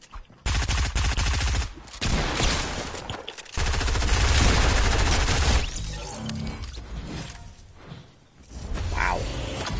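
Dense bursts of gunfire from the video game Fortnite, rapid volleys and weapon mechanisms filling most of the stretch, loud and close, with short gaps and scattered clanks near the end.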